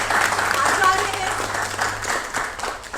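Applause welcoming a guest on an arts talk show, a burst of clapping from a studio audience that tails off, with a voice speaking over and after it.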